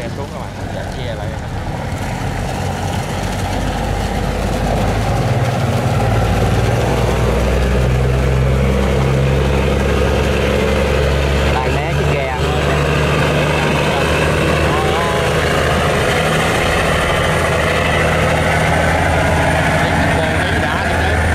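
A boat engine drones loudly and continuously as a boat arrives near a seagoing barge on a river. The low mechanical rumble stays steady throughout, with voices talking over it.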